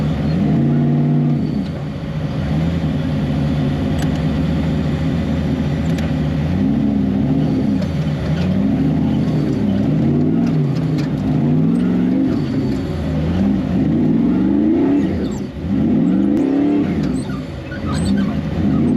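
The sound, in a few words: off-road race car engine revving, King of the Hammers race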